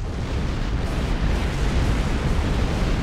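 A factory blowing up in Star Trek Online, a sustained, loud, rumbling explosion roar that stays dense and steady for the whole stretch with no gaps.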